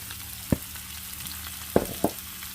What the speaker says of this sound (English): Now we're going to go ahead and cook those onions.